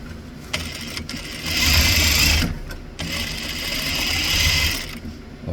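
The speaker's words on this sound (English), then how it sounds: "I'm sewing on the edge down there" A sewing machine stitches along the edge of a fabric bag, close by, with two sustained bursts of whirring stitching separated by short pauses and a steady mechanical hum between runs.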